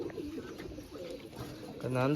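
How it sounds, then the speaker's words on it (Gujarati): Pigeons coo softly at sunset, a low repeated murmur in the background while a person talks nearby. "અહીંયા બધા કબૂતર બહાર નીકળે હાલે અંદર"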